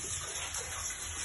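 Sewage water gushes steadily in a basement bomb shelter, a loud, unbroken rushing wash heard close up with no voices.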